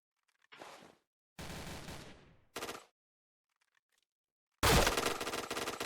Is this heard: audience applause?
no